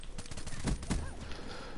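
Shotgun gunfire in the Call of Duty Black Ops 3 video game, two sharp booming blasts about a quarter second apart over a busy background of game sound and noise.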